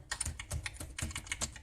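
Fairly quiet clatter of keys on a computer keyboard while C++ code is entered, about a dozen quick taps in an uneven rhythm, heard alone without speech.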